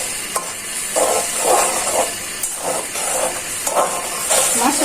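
Coriander powder, spices and sliced green chilies frying in a hot pan, a continuous hiss and sizzle broken by repeated stirring scrapes.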